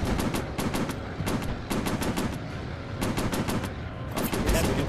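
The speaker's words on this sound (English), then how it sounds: "Machine guns overheating." Bursts of WW2 fighter plane machine gun fire in a VR flight combat game, several short rapid volleys in quick succession over a steady engine drone, loud and close.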